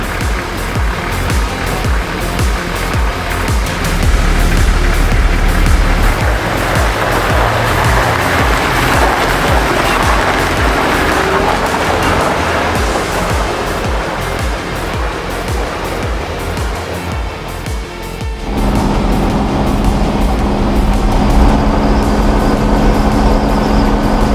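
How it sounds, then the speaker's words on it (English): A Toyota Troopy with new injectors, a new cooling system and fresh sound deadening cruises on a highway, giving a loud, constant roar of road and wind noise with a brief dip in the engine note partway through. "We're on the highway, taking it for its first drive in about 6 months."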